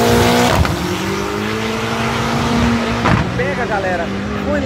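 Drag race cars run side by side down the Interlagos strip in São Paulo, engines roaring loud and close with rising revs and a sustained tonal whine, while excited spectators shout over the noise.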